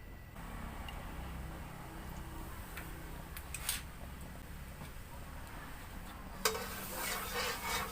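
Quiet simmering fish sauce and water in a pan with a soft, steady bubbling hiss and a few faint clinks, close by, no talking.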